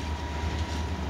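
A DB Cargo freight train rumbles past nearby in Kochłowice, a heavy low continuous rolling roar of wagons on rails, brief and steady with no talk.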